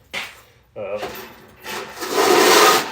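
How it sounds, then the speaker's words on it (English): Sandpaper rubs against a workpiece in short strokes and then a longer, louder scrubbing pass, with fine grits worked up to 800. "just working up the grits to 800 grit"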